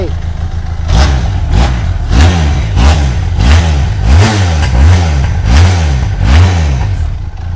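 A 2019 Benelli TRK 502X motorcycle engine revs repeatedly in short bursts, about ten throttle blips rising and falling in a steady rhythm, loud and close.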